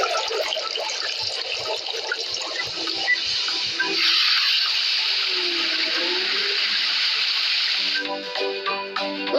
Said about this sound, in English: Let's fill it with water and turn the fountain on.